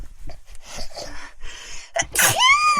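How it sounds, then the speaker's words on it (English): A single sharp human sneeze bursts out near the end, loud and close, preceded by soft breathy murmuring and a quick inhale. "That last sneeze, you went..."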